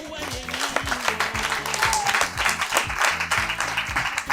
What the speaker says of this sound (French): Si c'est bon, vous acclamez.